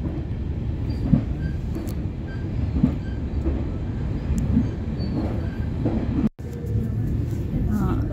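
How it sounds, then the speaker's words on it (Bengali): A train rumbles steadily as it runs into Engelberg in the Swiss valley, a continuous close interior roar with faint rhythmic clicks and a brief dropout, while a person talks over it. "ট্রেন ঢুকছে এঙ্গেলবার্গে"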